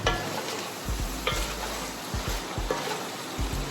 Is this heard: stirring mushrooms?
yes